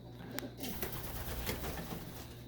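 Pigeons cooing softly nearby, low murmuring coos repeating under a faint hum, with a few light taps and rustles, fairly quiet.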